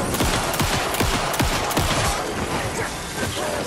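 Video game gunfire, a dense fusillade of repeated shots and bursts with booming low thuds, loud and continuous throughout under a busy wash of game noise.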